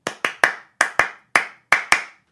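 Crisp, close hand claps played as a rhythmic pattern in 12/8 from Steve Reich's Clapping Music, eight sharp claps in uneven groupings with short gaps between them, each one clean and alone.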